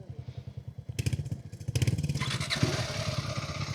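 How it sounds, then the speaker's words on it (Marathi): A lightweight KTM Adventure motorcycle engine pulses in a rapid, steady rhythm up close, rising in intensity partway through as it pulls away and accelerates, with rattling mechanical noise and no voices. "मी घेतो ॲडव्हेंचर KTM. आपण चालून बघूया आता."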